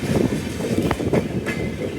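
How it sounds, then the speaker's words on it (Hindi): The Amritsar Shatabdi Express from New Delhi rolls past close by, a loud continuous rumble with rhythmic wheel clatter and a few sharp metallic knocks. "अमृतसर वाली शताब्दी एक्सप्रेस है, जो कि न्यू दिल्ली से अमृतसर के लिए चलती है"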